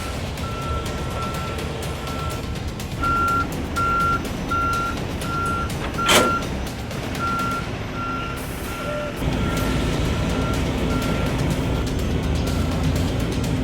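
A truck backs a trailer at night during a construction hauling offload, its reversing alarm beeping in a steady regular rhythm over a loud rumbling engine, with a short air-brake hiss partway through and no talking.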